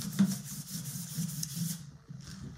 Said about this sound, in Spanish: Y fijad que estoy lijando todo el papel